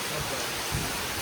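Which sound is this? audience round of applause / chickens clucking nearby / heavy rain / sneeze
heavy rain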